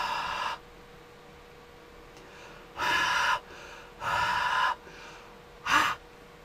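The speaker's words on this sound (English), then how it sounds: "I'm just going to breathe on it" Breath blown onto a small electronic temperature sensor to warm it, heard as three close, breathy exhalation bursts of about a second each, separated by short quiet pauses.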